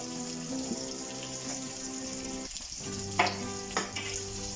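Halved shallots and curry leaves frying in oil in a pan for colocasia stem thoran, a steady soft sizzle with a few crackles and light stirring clinks, close and fairly quiet.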